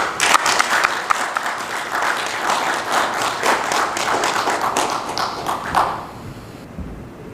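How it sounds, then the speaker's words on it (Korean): Listeners at a political lecture and book talk give a speaker a welcoming round of applause. The crowd claps loudly and densely for about six seconds, then dies away into near silence. "이현주 의원 오실 때 큰 박수 부탁드립니다."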